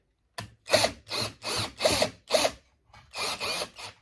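A SeeSii 21V cordless drill backs a screw out counterclockwise, producing a series of about seven short, loud ratcheting bursts separated by brief pauses.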